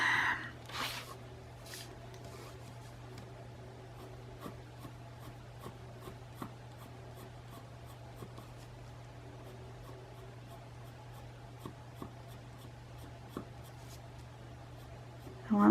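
Coloring on a sheet of scrap copy paper: faint, soft scratchy strokes with scattered small ticks over a steady low hum, with no talking.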